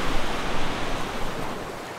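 Sea waves washing onto a Konkan beach near Ratnagiri, a close, steady broadband surf roar with a gentle swell and fade, no voices.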